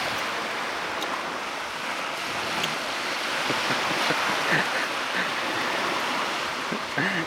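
Restless sea water churns and laps against the shore, a continuous near hiss with faint low wind buffeting and a few distant voice traces.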